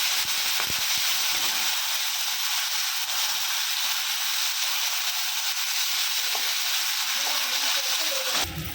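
Tamarind chutney with salt, dried red chillies and curry leaves stirred in a hot oily pan, a loud continuous sizzle and hiss with a few scraping strokes.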